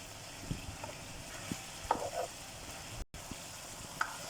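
Chicken karahi for a white korma frying in a pan with ground coconut stirred through, a soft steady sizzle with a few scraping stir knocks.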